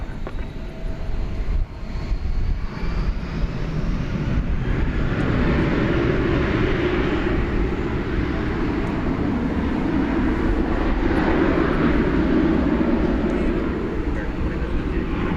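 A jet aircraft at Dallas Fort Worth Airport takes off along the runway at night, a loud, sustained engine roar rising and holding for about fifteen seconds. Speech mixes in with it.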